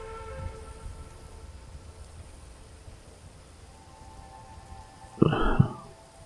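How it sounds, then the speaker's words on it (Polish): Thunderstorm rain in Fallout 76 keeps up a steady, soft hiss, and a sudden louder rumbling burst breaks through near the end. "Idzie burza."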